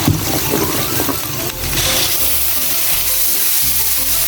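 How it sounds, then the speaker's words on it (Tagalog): Garlic and onion sautéing in a pan for Filipino pork menudo: loud, steady sizzle close by, with stirring scrapes. "Dito na rin tayo guys magigisa, bawang sibuyas."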